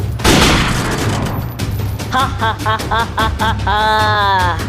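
Rapid bursts of gunfire in the Free Fire video game, a loud volley at the start followed by repeated shots with electronic effect tones, no talking.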